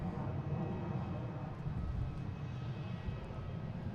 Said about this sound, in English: next taking off is a JetBlue